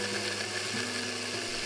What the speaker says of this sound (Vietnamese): Mình khuyên lấy cái máy xay mình xay cho thiệt nhanh nè